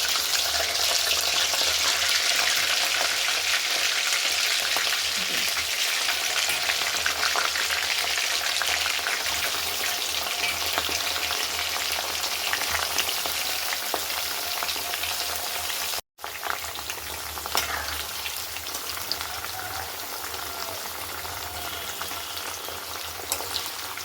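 Food fries in hot oil over a high flame, making a loud, continuous crackling sizzle that holds steady for the whole stretch. The sound is broken only by a momentary dropout partway through, and no one speaks.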